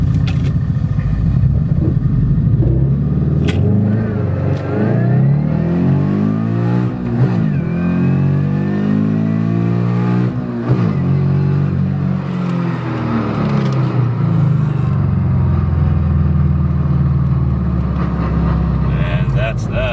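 A Toyota FR-S with solid transmission mounts revs hard as it accelerates from low speed, pitch sweeping upward through gear changes, loud and close throughout with a steady roar and whine at higher RPM.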